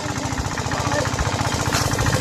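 A small engine at a village water park pumps away with a steady, loud, rapid knocking thud that runs unbroken from start to finish, rough and mechanical.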